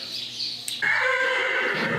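A horse kept indoors whinnies loudly and excitedly, a long shrill neigh rising and wavering for over a second after a short lead-in of stable noise, close and unaccompanied by talk.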